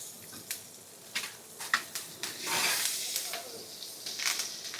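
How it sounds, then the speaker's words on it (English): Garlic and thyme crackle in hot Irish butter being basted in a pan, a soft steady sizzle dotted with sharp little pops, fairly faint. "the crackle of garlic and thyme, I love it"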